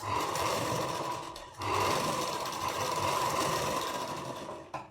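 A sewing machine sews the lining of a princess-cut deep-neck blouse in two continuous runs separated by a brief pause. It is close and fairly loud and ends with a quick mechanical click.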